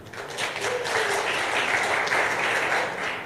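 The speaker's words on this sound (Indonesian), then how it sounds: "Tepuk tangan untuk Indonesia." Audience applause at an Indonesian talk or sermon, a dense, steady wash of many hands clapping that holds at full strength for about three seconds, fairly close and with no talk over it.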